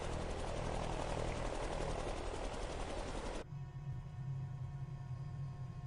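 A helicopter rotor and turbine engine in a flight simulator game drone loudly and steadily, then the tone abruptly shifts partway through to a lower hum with a clear steady whine.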